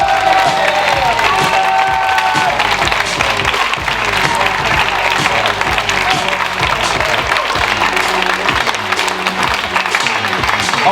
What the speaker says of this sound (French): Merci d'applaudir Anthony.